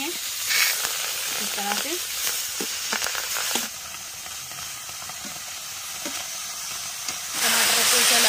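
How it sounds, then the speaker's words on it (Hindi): Tomatoes and green beans sizzle and hiss in a hot pan, steady frying crackle with stirring scrapes, swelling louder near the end, while a voice speaks briefly. "टमाटर को चला के पहले तो अच्छे से फ्राई, इनको साथ में अच्छे से भून लेते हैं हम"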